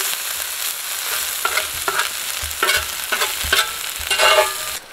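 Potatoes and onion with salt and pepper browning in a cast iron pan: a constant, near hiss of frying broken by repeated scraping and clanking stirs, uneven in rhythm and swelling toward the end, with no one speaking.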